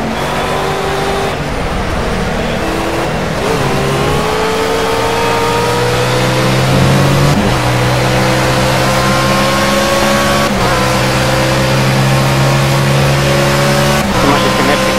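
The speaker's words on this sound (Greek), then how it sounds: "Ο ήχος δεν ξέρω αν φτάνει στα αυτιά της αυτή τη μηχανή" A race car engine in the video game Project CARS drones steadily, pitch climbing through repeated gear shifts, loud and continuous, with a faint voice underneath.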